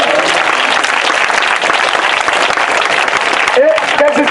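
A congregation at a church deliverance service applauds loudly and continuously, dense clapping filling the room, with a voice rising over it near the end.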